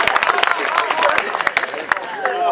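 An audience claps together at a comedy poetry show, dense applause with sharp clap transients running steadily throughout, a voice partly heard over the crowd.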